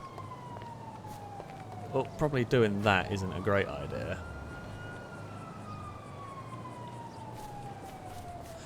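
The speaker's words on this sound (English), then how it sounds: "Now, those sirens, are they an AI police car?" Police car siren in the video game GTA 5, a long wailing tone that rises and falls faintly in the background, with someone talking over it partway through.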